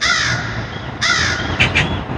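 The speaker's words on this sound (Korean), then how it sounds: "새소리를 들으며." Crows caw loudly and nearby, three harsh calls in quick succession, the last two shorter, with no talking.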